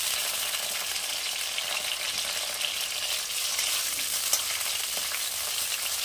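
Cauliflower and other vegetables frying in a pan for a dhaba-style chana dal, a dense, steady hiss of sizzling oil with faint stirring scrapes throughout.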